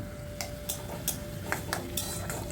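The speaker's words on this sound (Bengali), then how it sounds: "এখন এই ডালটাকে সমস্ত মশলার সাথে হাতের সময় নিয়ে ভালো করে কষিয়ে নেব।" Soaked masoor dal is stirred and fried dry with spices in a pan, a utensil scraping and tapping in sparse, light clicks and scrapes at close range, fairly quiet with no talk.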